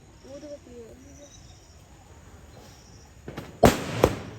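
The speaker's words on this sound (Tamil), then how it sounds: "இங்கால வெடி சத்தம் ஓடி வந்துருங்க" Firecrackers set off outdoors at a Thai Pongal celebration in Kilinochchi, Sri Lanka: after a quiet stretch with crickets chirping, a couple of sharp, loud pops burst near the end.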